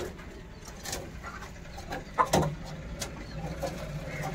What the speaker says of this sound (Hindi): हमारी मुर्गी इधर बैठी है